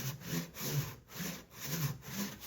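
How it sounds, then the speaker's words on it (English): An Irwin combination hand saw cuts a dado in Baltic birch plywood along a clamped straight guide, making steady rhythmic back-and-forth rasping strokes, close and clear with no talking. "I'm using an Irwin combination saw"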